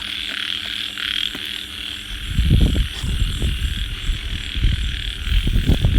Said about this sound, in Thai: อันนั้นนะคือเสียงเขียดอีแอดด้วยค่ะเด้อ